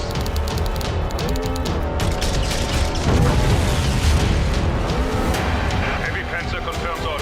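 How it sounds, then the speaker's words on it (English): Artillery shells boom in a WW2 tank battle video game, with heavy engine rumble, crashes and dense battlefield noise running loud and continuous throughout, over the background chatter of game voices. "Incoming artillery!"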